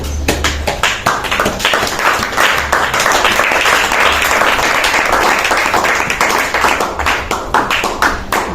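A church congregation at an Easter service applauding, loud sustained clapping from many hands close by, continuing steadily throughout.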